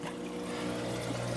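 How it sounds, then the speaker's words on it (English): Water from a reef aquarium filter dripping and trickling onto a small bag of carbon, a steady wet splashing patter under a low pump hum, close and quiet throughout. "the water drips down onto that bag of carbon"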